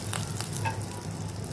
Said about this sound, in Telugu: ఆవాలు, అలాగే 1 ఎండుమిర్చి, 2 రెమ్మల కరివేపాకు, చిటికెడు పసుపుని వేసి పోపు ప్రిపేర్ చేసుకోవాలి